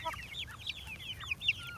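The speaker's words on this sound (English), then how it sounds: "I think it's a rooster." A young backyard rooster, about eight weeks old, mostly black with a blue sheen, gives a run of rapid, high-pitched clucks and chirps. The chatter is soft and fairly close, over a low steady background hum.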